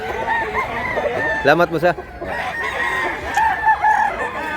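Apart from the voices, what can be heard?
rooster crowing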